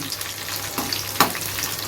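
Garlic fries in hot ghee in a kadhai, giving a soft, steady sizzle with a couple of small crackling pops partway through.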